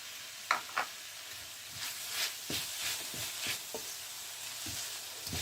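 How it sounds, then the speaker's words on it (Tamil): Chopped tomato and vegetables fry in a pan for proso millet vegetable pulao, giving a steady sizzle broken by several sharp stirring scrapes and clinks. "நான் இப்போ இதோட ஒரு தக்காளி பழம் நல்ல சின்னதாக குறுநலாக நறுக்கினதை சேர்த்து கொள்ளுறேன்"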